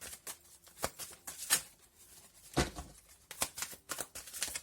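Oracle cards from a second deck are shuffled and drawn, giving a run of crisp, papery riffles and flicks in quick uneven bursts, close and clear with no talk.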